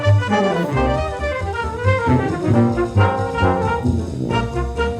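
A jazz recording plays, with dense harmonic tones from instruments over a steady low end, continuous and fairly loud, with no talking over it.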